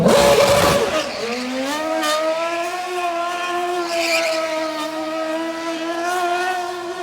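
A Red Bull race car on slick tires tears along a downtown Minneapolis street at a showrun, its engine screaming in a rising, sustained high-pitched whine after a loud initial burst, heard up close.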